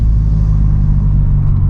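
A Vauxhall Corsa coasting downhill in fifth and fourth gear at night gives a steady, loud, close engine drone with deep road rumble, unbroken and without voices.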